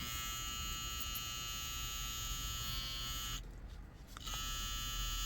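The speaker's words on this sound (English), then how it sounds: "And this is a saber trimmer. It's a brushless motor." A Kemei KM 90-5 saber trimmer with a brushless motor runs close up with a steady, high-pitched electric whine. The pitch dips briefly near the end and then returns to the same even hum.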